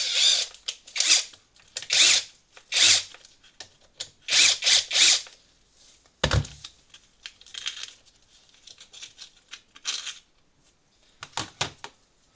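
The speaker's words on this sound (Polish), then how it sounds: "Użyję wkrętarki, będzie szybciej." A cordless drill-driver unscrews parts of a petrol brushcutter in short whirring bursts with ratcheting clicks, close up, separated by quiet pauses and a sharp knock near the middle.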